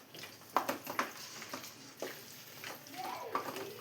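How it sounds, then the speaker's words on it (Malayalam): Chicken being stirred with salt in a pan: quiet scraping and clinking of a spoon against the pan in short irregular strokes, with a faint sizzle underneath. "എല്ലാം കൂടെ ഒന്ന് മിക്സ് ചെയ്ത് കൊടുക്കാം."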